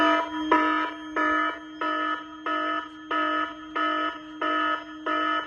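An aerosol fire suppression system alarm at a transformer pulses on and off in a steady repeating rhythm, loud and harmonic, with no talking.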